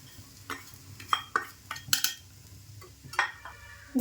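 Jaggery tipped into a pan with grated coconut and stirred with a spoon while making sweet Nevrya for Nag Panchami, giving a series of soft scraping stirs and light metallic clinks against the pan.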